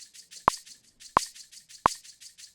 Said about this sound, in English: What we do have to add is a shaker.